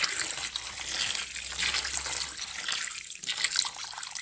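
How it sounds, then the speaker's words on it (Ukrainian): Boiling water poured over frozen hake in a kitchen: a steady, close liquid gush and splash that runs continuously for about four seconds, with no voices. "Заливаємо її окропом."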